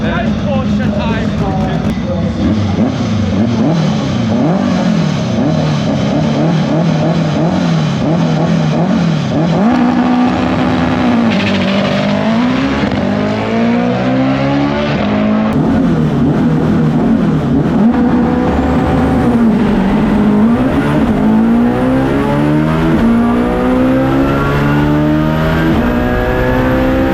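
A Lamborghini engine revs at a car meet, a loud continuous roar rising and falling in pitch with repeated throttle blips, while people talk over it.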